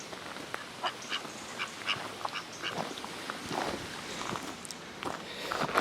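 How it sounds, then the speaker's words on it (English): Ducks roused from sleep on the Pennine Way near Edale give scattered quacks as a hiker's footsteps pass close by outdoors, short calls rising over soft trail noise. "Some sleeping ducks."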